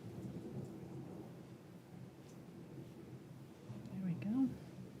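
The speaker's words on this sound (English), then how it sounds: "Got a thunderstorm coming through here." A thunderstorm rumbles low and distant with a soft wash of rain, faint and muffled indoors, the thunder swelling briefly near the end as a voice is heard.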